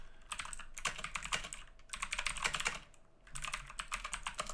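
Rapid typing on a computer keyboard in a classroom setting, steady bursts of key clicks with short pauses between runs, fairly quiet with no talking.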